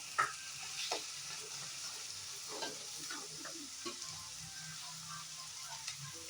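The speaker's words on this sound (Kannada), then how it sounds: "ಈರುಳ್ಳಿ ಕೆಂಪಗಾಗೋವರೆಗೂ ಫ್ರೈ ಮಾಡಿಕೊಂಡು" Onions fry in oil until browned, a quiet, steady sizzle with scattered scraping stir strokes of a spatula in the pan.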